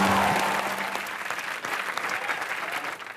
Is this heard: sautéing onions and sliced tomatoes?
no